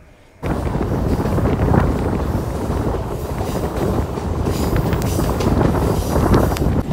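Strong wind blows hard at the seaside in Digha, a loud, steady roar that buffets the microphone, rising abruptly and holding on with no speech.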